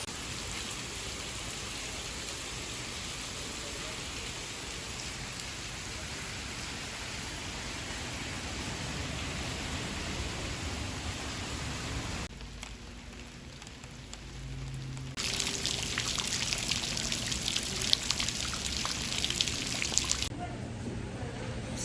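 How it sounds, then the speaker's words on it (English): Heavy rain pours down in Panama, a dense, steady hiss that roars continuously and swells louder partway through, with no break in the downpour. "it is raining so hard"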